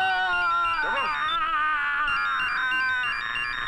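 Phone ringtone playing a loud, bright melodic electronic tone that repeats continuously, with a short burst of other sound partway through.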